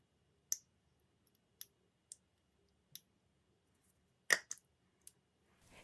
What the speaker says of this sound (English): I'm adding a pencil mark right to the center so I can try to aim with my hole punch